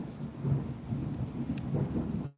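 Low thunder rumbles beneath steady rain falling outdoors during a storm, a continuous wash of sound that cuts off abruptly at the end.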